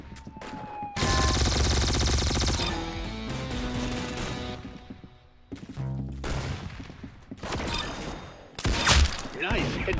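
Gunfire and impacts in the Roblox shooter Arsenal: bursts of rapid shots and sharp cracks over busy game sound effects, loud and close, with a voice talking between the shots.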